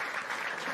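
Brief burst of dense audience clapping at a comedy talent show, steady and lively throughout, with a faint murmur of voices underneath.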